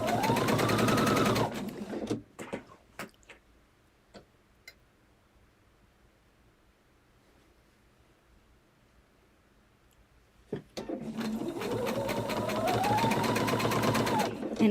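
Sewing machine stitching the binding onto a quilted table runner, running in two long loud bursts at the start and end with a quiet stretch of faint clicks and handling noises in between.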